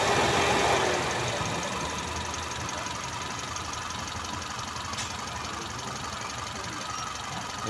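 A Hyundai i10 that is overheating idles with its radiator fan whirring, a steady close hum and airy rush that holds even throughout, slightly louder in the first second.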